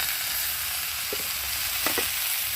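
Potato and papaya fry in a pan with salt, ginger-cumin paste and turmeric, a steady close sizzle with a few soft stirring scrapes, no voices.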